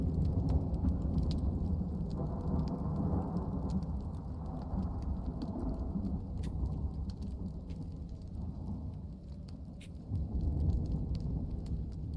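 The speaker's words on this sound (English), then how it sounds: "I'm just waiting for this so we don't get struck by lightning" A lightning storm in the survival game Icarus brings deep, rolling thunder rumbling steadily for about twelve seconds over a patter of rain, with a fresh swell of rumble near the end.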